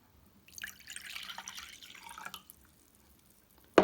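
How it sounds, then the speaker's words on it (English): Water poured into a measuring cup, a splashing trickle of about two seconds that stops, followed by a short knock at the end. "I'm going to measure my first cup. I'm going to pour it in."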